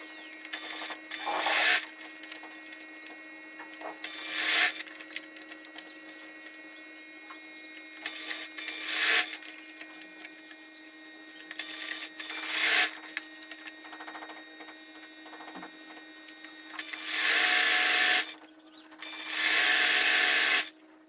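A sewing machine stitches the lining of a clutch bag in short, whirring bursts. Roughly six runs of stitching start and stop, with quiet pauses between them and the last two runs longer and louder.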